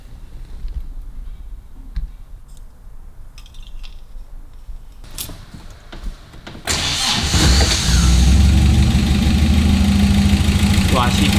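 A 1955 Austin Healey engine is cranked and catches partway through, settling into a loud, rough, steady idle close by after a stretch of quieter shuffling sounds.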